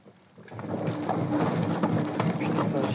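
Water sprays and splashes out of a Brandt washing machine during repair, a loud broad continuous gushing and spattering that starts abruptly and keeps going steadily with no voices.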